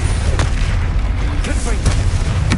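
Confringo, the explosive fire spell in Hogwarts Legacy, bursts in a loud game-combat boom with several sharp blasts over a dense rumble. Other spell effects and game noise fill the background.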